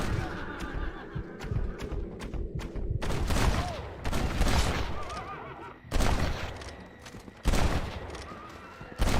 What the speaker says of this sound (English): I'm shooting the guy that's being hung